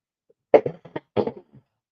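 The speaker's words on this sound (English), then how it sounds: "we're going to cough in your ear" A couple of sharp, close coughs in quick succession, loud and isolated against near silence.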